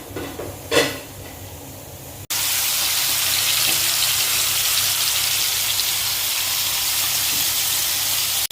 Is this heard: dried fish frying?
yes